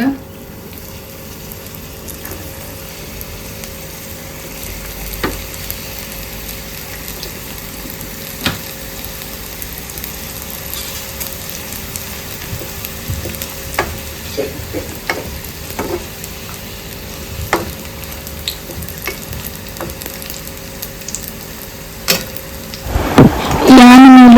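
Crispy samosas deep-fry in hot oil with a continuous low crackling sizzle and scattered sharp pops, building to a louder clatter right at the end.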